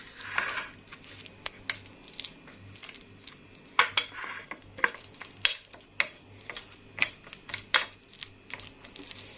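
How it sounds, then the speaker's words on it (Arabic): A spoon stirs yogurt, coconut biscuit and dates together in a bowl, giving repeated clinks and scrapes against the dish in an irregular rhythm, close and fairly loud, with no talking. "اقلب كله مع بعضه"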